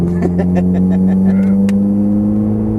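A Ferrari 430 Scuderia runs on a racetrack with a loud, steady engine drone and a few sharp transient clicks near the start. People talk over the engine.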